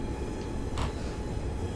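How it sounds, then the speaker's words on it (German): A coal freight train hauled by a class 189 electric locomotive rolls past in Train Simulator 2015, a steady rumbling rail noise with a brief swell of higher rattle midway, heard alone. "Kohlezug mit 189."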